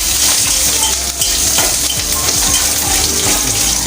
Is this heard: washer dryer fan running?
no